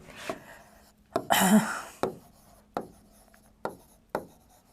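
Handwriting on paper: short pen strokes and scratches in separate bursts, close and fairly quiet, with pauses between them and no talking.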